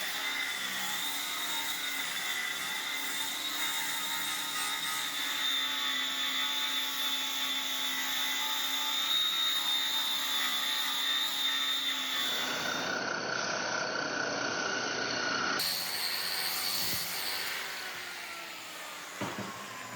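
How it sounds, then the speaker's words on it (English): Rough grinding of a forge-welded Damascus steel plate made from car shock absorbers gives a steady, loud, high whine that runs continuously, then shifts in tone and tapers off toward the end. "This rough grinding stage is where you clean up the profile and see the true quality of your forge welds"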